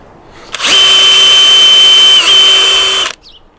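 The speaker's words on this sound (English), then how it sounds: "we'll just drill 2 holes" A power drill bores a hole into a wooden fish tank stand, a single loud, steady whine lasting about two and a half seconds with a slight pitch dip near the end, then cutting off.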